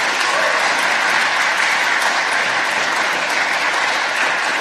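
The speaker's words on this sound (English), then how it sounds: "Let's give them a round of applause for that." An audience at a debate on ending the Federal Reserve applauds its speakers, producing a dense, steady wash of clapping that stays loud and even throughout, with no talking over it.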